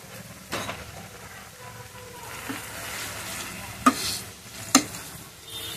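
Noodles with sauce stirred and fried in a pan, a soft continuous sizzle under light scraping, punctuated by two sharp clinks of a utensil against the pan nearby.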